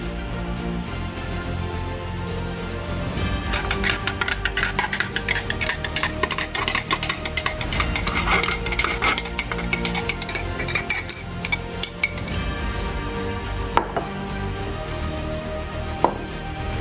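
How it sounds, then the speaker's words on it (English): Two eggs with salt and seasoning are whisked in a bowl: a fast, steady run of close, light clicking strokes that lasts several seconds, then eases into a few scattered taps. "Break 2 eggs into a bowl, season, add salt and whisk properly."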